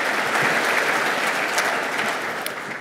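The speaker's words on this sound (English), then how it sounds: "Let's give the school board a big round of applause." A crowd at a Portsmouth, Virginia State of the City event applauds the school board, many hands clapping in a steady, fairly loud wash that eases slightly toward the end.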